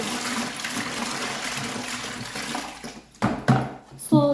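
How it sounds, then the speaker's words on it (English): Water poured from a two-liter bottle into a container for homemade car wash shampoo, a steady broad rush with a few louder splashing surges near the end. "I'm going to start by pouring my water."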